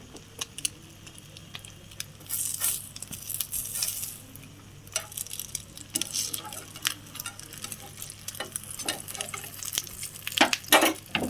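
A two-egg omelet fries in a pan with a low, steady sizzle, punctuated by scattered scrapes and clinks of a spatula, and a louder flurry of scraping near the end as it is turned; close, fairly quiet, with no talk.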